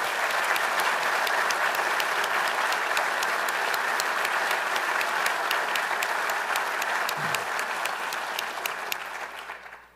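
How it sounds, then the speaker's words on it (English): Sustained audience applause for Madigan Award winners at an Army War College faculty recognition ceremony in a library lobby, steady dense clapping for about nine seconds before fading out at the end. "Please join me in a last round of applause for all of our Madigan Award winners."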